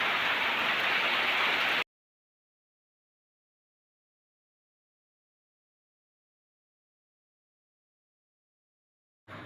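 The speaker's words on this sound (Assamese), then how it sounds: "এই এনেকৈ বৰষুণ মাৰি থাকিলে ফিল্ডত পানী ভৰ্তি হ'ব" Heavy rain pours steadily in a dense, hissing wash for about two seconds, then cuts off to silence before briefly returning at the very end.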